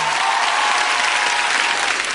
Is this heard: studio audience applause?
yes